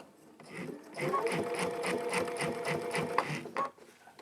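Sewing machine with a walking foot stitching a quilt, running in a short rhythmic burst of about two and a half seconds with pulsing needle strokes, close and fairly loud, heard alone.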